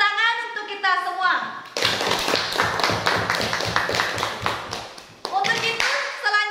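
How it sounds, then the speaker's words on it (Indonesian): Children in a classroom break into rhythmic hand clapping after a short stretch of speech, the clapping loud and steady for several seconds before talk resumes. "Tepuk tangan untuk kita semua."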